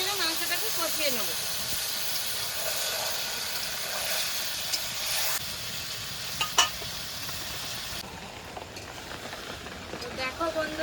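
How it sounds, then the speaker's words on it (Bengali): Marinated meat sizzles and hisses steadily in a hot kadai while being stirred, with occasional scraping clicks, for a mutton curry being prepared. "এবার ভালো করে নেড়ে চেড়ে মাংসটাকে কষিয়ে নেব।"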